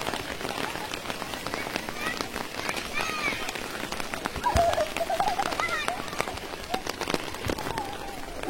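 Rain falls steadily on a muddy field where boys are playing football, a dense, continuous patter of drops spread evenly across the whole stretch, with faint birdsong and a voice now and then.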